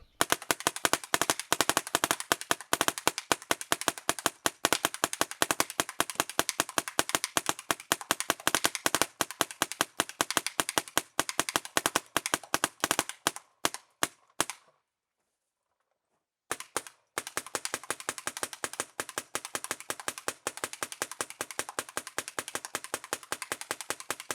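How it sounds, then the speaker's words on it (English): Paintball gun firing rapidly at an FMA F1 mask: a long, fast run of sharp, evenly spaced pops, a brief silent pause partway through, then the rapid shooting resumes at the same steady pace. "So here we are shooting at the FMA F1."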